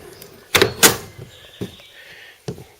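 A truck trailer's rear doors close with a few solid metallic clunks and latch thuds, spaced irregularly and close by, with a light rattle between them and no talk.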